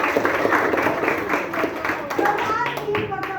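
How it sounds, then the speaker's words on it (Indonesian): A class of students claps together in a quick, scattered patter, fairly loud and near, while voices chatter and talk over the clapping. "Udah ya, tepuk tangan buat semua."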